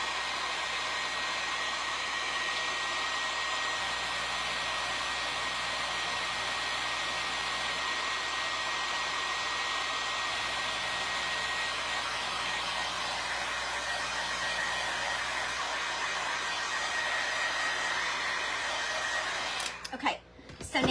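A hair dryer blows on freshly painted green wall decor pieces, producing a loud, steady whooshing roar that runs unbroken for about twenty seconds before cutting off abruptly.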